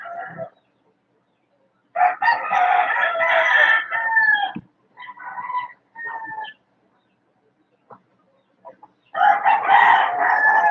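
Over thirty chickens: several roosters crow in long, loud calls near the listener, with scattered clucks and short bird noises in the pauses between them.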